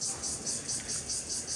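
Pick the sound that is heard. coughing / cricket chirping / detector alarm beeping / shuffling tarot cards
cricket chirping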